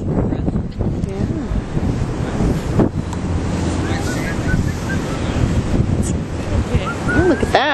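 Wind and surf roll continuously on a beach on a windy day, waves washing in a steady wash with gusty microphone rumble throughout, fairly loud, with a voice faintly heard at times.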